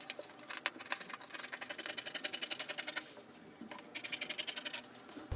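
Scissors cut out a fabric pattern piece at the back neckline of a sewing project, giving quiet, rapid, rhythmic snipping in two close runs with a short pause between, and no talking.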